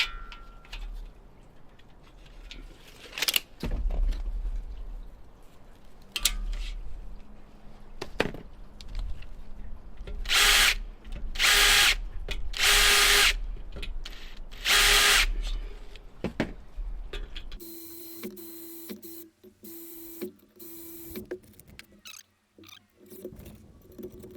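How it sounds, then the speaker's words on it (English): A cordless power drill pre-drills holes for self-tapping screws fixing Barrette Outdoor Living deck railing brackets, sounding as several short whirring bursts of a few seconds each near the mic, with clicks and handling noise between them and no talking. "I just find it's a lot easier to pre-drill."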